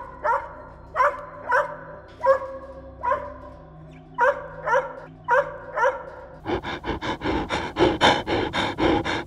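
A German shepherd barks in a steady series of single woofs, then breaks into a quicker run of louder, tighter barks.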